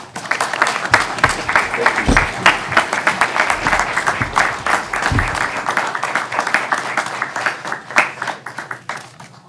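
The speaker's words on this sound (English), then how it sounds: "Give them a round of applause." Audience applause at a city council workshop, a dense roomful of clapping that fills the space steadily and stays loud with a few voices mixed in.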